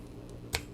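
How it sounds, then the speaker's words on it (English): A single crisp snip of scissors cutting thin ribbon for a bow on a handmade tulip thank-you card, one sharp close cut amid quiet room tone. "I'm going to bring my scissors in"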